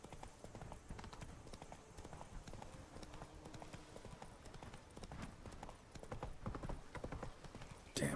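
Steady clip-clop of horse hooves at a trotting rhythm while riding in The Witcher 3, continuous and moderately close, with faint ambient noise beneath.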